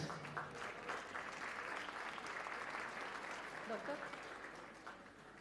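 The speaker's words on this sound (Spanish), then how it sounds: "El aplauso para ellos." An audience applauds at a university anniversary academic ceremony during honor-roll awards. The clapping is a steady, fairly faint wash from a large hall and continues throughout, with some voices mixed in.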